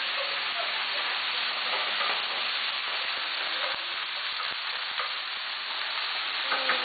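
Chopped tomato and tomato sauce sizzle steadily in a hot pan, a loud, dense frying hiss with occasional pops and a few clinks of stirring, close up and continuous.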